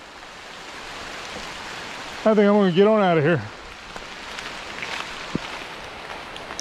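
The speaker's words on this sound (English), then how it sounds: "the rain's really starting to come down now" Rain falling on a creek while fishing, a steady hiss of drops on water close by, with someone speaking briefly over it partway through and a few sharper drips afterward.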